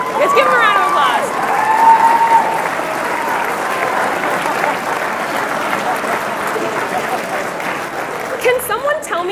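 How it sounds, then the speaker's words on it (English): Audience applause greets a volunteer coming up on stage at a talk, loud dense clapping from a crowd that holds steady for several seconds, with a few voices at the start and end. "Let's give him a round of applause."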